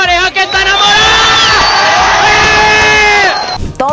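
A loud wedding crowd cheering and whooping with many voices shouting together, sustained for a few seconds before fading.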